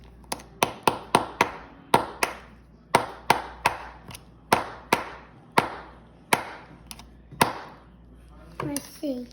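A hammer strikes a chisel into fossil-bearing rock, about fifteen sharp, close metallic taps in an uneven rhythm, each ringing briefly, with a faint voice near the end.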